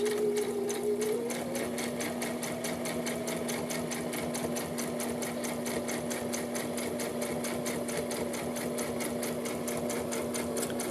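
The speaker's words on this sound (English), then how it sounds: "And then I'm just going to sew down this edge." A sewing machine runs steadily and close up as it stitches along the edge of a fabric face mask, its rapid needle clatter continuing evenly with no talking.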